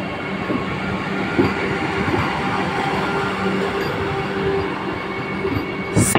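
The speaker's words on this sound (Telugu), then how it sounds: "వందే భారత్ ట్రైను." A Vande Bharat express bound for Visakhapatnam rushes past, a dense continuous roar of wheels and carriages with faint clicking rail joints, steady and close for the whole stretch.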